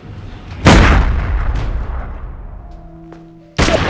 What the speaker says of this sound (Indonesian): Billy malah melepaskan tembakan tepat ke kepala Yan.